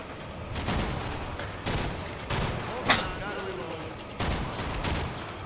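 Gunfire in the video game Evil Dead comes as several bursts of shots at a steady pace, with one sharp crack standing out near the middle, all under a constant game background.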